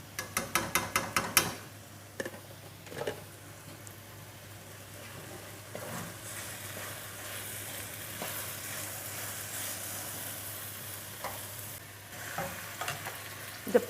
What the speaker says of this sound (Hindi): अब हम घी डाल के भूनेंगे।